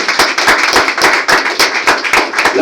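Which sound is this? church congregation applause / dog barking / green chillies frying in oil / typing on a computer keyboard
church congregation applause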